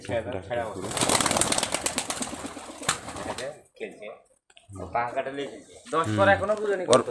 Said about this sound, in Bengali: খুব সুন্দর কবুতরগুলো লম্বা সাইজের কবুতর